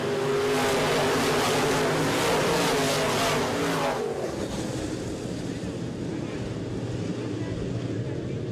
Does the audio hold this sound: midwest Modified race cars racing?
yes